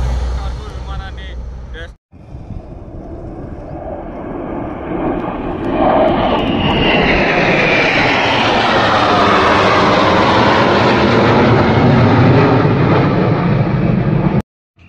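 Indian Air Force aircraft on a trial run over the NH16 emergency highway airstrip near Korisapadu, a loud jet roar swelling and sweeping past after a brief cut, sustained and close.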